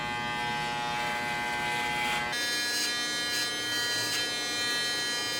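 Electric hair clippers shaving hair on a head, a loud, close, continuous buzzing hum whose tone shifts as the blades move through the hair.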